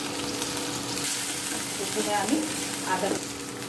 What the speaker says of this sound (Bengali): প্রথমে আমি আদা কাঁচা লঙ্কা বাটা দিলাম